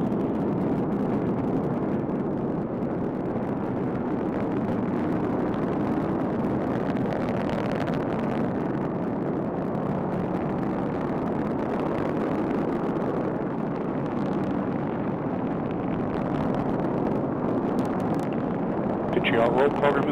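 A rocket booster engine roars during the TDRS-L launch as a continuous, dense rumble that holds steady and loud. A voice talks over it.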